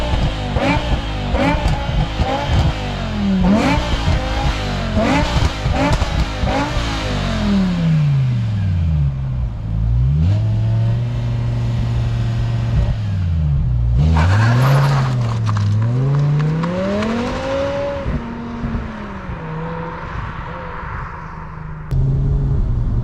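A 2005 BMW M6 E63 engine revs hard while driving, climbing through the gears with rising and falling pitch sweeps between shifts, loud and close throughout.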